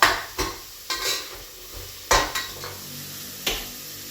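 Onions added to a frying pan for vegetable sambar, stirred with a utensil that scrapes and clatters against the metal in several sharp, separate strokes over a faint sizzle.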